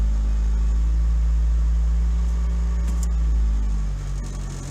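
A car engine idling in drive, a steady low hum that stays even and close throughout, with no voices over it.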